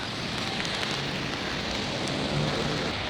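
Sudden rain pours steadily during a bike commute, a dense, close hiss of drops hitting surfaces that holds at an even loudness throughout, with no voices.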